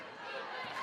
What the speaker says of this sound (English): Loud crowd in the Newman Gym